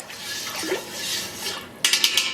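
Blue yarn dye poured into a pot and stirred, soft liquid swishing and splashing followed by a short burst of sharp clinks and drips near the end, close and brief, no voices.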